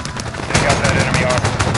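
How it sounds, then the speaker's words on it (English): Aircraft guns in a Modern Warfare campaign mission fire a loud, rapid stream of shots, a dense close burst running the whole moment under radio chatter. "Guns, guns, guns. Still firing, still firing."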